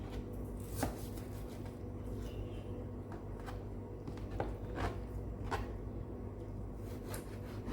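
A knife slices through a very large prawn, giving a handful of crisp, scattered cuts and taps over a steady low kitchen hum, with no one talking.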